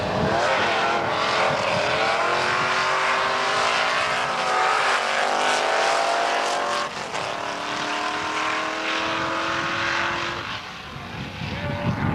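A 1932 Ford Roadster race car driving past at speed, its loud engine roar sustained with shifting pitch under a constant wash of noise, fading slightly toward the end.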